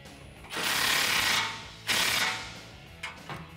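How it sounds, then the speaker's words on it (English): A hand ratchet with a 16 millimeter socket tightens a bracket nut on a Toyota Tacoma bull bar. Two close rasping sweeps are followed by a few short clicks, with no other sound around them. "Using a 16 millimeter socket and wrench, tighten this down."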